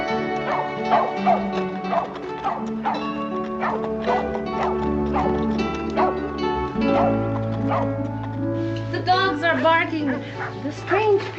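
Dogs bark and yip repeatedly in an outdoor western scene from a 1959 television episode, with sharp barks scattered over a low musical score and voices talking throughout.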